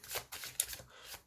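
Playing cards riffled and shuffled by hand in a few quick crisp bursts, close and moderately quiet, with no talking.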